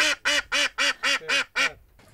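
A duck, an older one past laying age, quacks in a steady series of seven loud, evenly spaced calls, close by and clear, with no talking over them.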